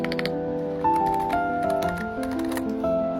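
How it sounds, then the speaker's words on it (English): Yellow switches on a Royal Axe Y87 TKL wireless mechanical keyboard clack in quick, fairly quiet taps, with a few soft tonal notes in the background. "let's check out the yellow switch, the sound of them"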